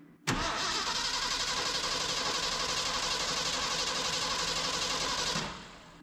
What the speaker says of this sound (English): And that starter is really loud by my right ear.